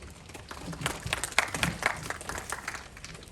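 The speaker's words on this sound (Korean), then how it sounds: "박수로 맞이해 주시기 바랍니다." An audience claps in welcome for a speaker at a Korean employment policy briefing, a short burst of scattered applause that swells and then thins out.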